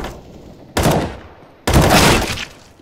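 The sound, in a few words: gunshots in Counter-Strike: Global Offensive video game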